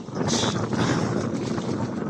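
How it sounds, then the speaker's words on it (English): Steady wind buffets the microphone outdoors near open water, a continuous broadband rush with gusty swells and no voices. "It's a bit windy down the lake."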